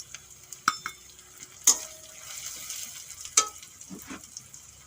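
Powdered spices (coriander, Kashmiri chili, turmeric, red chili) and salt frying in a pan for a soya chunk curry, with a soft steady sizzle and several sharp scrapes and clinks of a spatula stirring against the pan, close by and with no talk.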